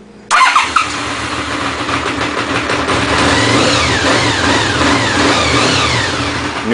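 A restored 1992 Honda VFR750 RC36 motorcycle cranks and fires up abruptly, then idles and is revved in several rising and falling blips, loud and close, with no talk.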